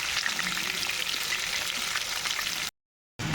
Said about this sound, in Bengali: মাছ ভাজার তেলের মধ্যে ফোড়ন দিয়ে দিয়েছি জিরে তেজপাতা এবং শুকনো লঙ্কা